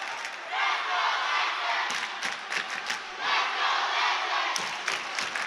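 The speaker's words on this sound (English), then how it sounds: "as you can hear, the Lancer crowd trying to will their team to victory here in the second set" Home crowd at a high school boys volleyball match cheering and shouting together in a gym, a sustained roar of many voices with a few sharp claps and shouts rising above it.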